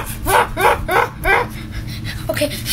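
A dog barks four times in quick succession, loud and close, followed by a softer yip near the end.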